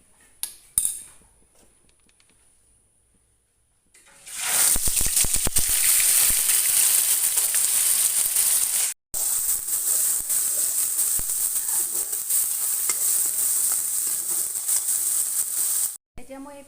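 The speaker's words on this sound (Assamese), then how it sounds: "এইখিনি খুন্দি থোৱা পিঁয়াজ আদা নহৰুখিনি ইয়াতে এড কৰিম" Crushed onion, ginger and garlic drop into hot oil with a faint clink at the start, then a loud, steady sizzle that carries on for over ten seconds with only brief breaks.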